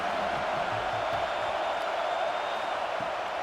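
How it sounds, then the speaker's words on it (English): A roaring football stadium crowd in a video game swells steadily on third down, a dense continuous wall of noise with no break. "Decibels rising as the crowd gets behind this defense on 3rd down"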